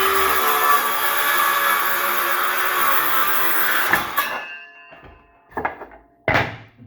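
A power saw cuts through bead board, a loud steady whining buzz that runs for about four seconds and then stops. A few knocks and clatters of boards follow close by.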